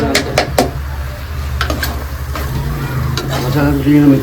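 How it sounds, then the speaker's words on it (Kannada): Masala for mutton biryani sizzles loudly in a pan while being stirred, with sharp scraping strokes of a ladle against the metal, heard close up. "ಫ್ರೈ ಮಾಡಿ ಆಮೇಲೆ ಎಲ್ಲ ಮಸಾಲ ಅದಕ್ಕೆ ಮಿಕ್ಸ್"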